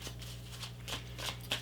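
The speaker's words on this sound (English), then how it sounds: "one more shuffle" A deck of tarot cards is shuffled in a few soft, brief riffles over a steady low hum, faint and close.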